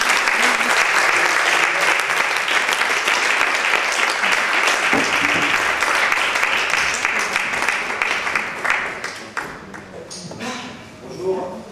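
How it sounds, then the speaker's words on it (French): A comedy-show audience applauds a comedian's entrance with dense, loud clapping that holds steady for about nine seconds, then thins out and fades away. "On l'applaudit très fort."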